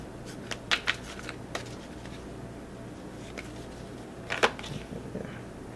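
Tarot cards drawn and handled during a reading, giving a few soft, close papery flicks and snaps scattered over quiet room tone, with no talking.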